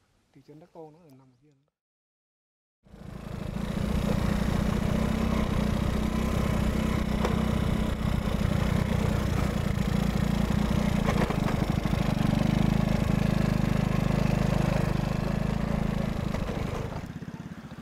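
A brief voice speaks, then a loud, steady motorcycle engine rumble starts and runs continuously, close and droning, with wind-like noise on top.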